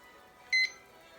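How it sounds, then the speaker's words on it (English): A kitchen timer set during pineapple canning goes off with one short, clear electronic beep against a quiet room, brief and moderately loud. "the timer just went off"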